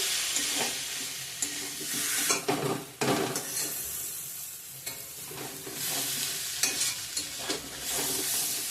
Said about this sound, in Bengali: ভালো করে আর একটু কষিয়ে নেব মশলার সঙ্গে